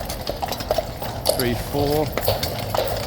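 Horses' hooves clip-clop at moderate distance as mounted guards pass, with people talking and counting over the top and steady crowd noise beneath.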